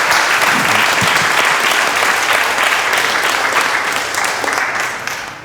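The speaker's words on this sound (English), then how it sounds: "a round of applause" A crowd applauds steadily, dense clapping that holds strong and then gradually fades toward the end.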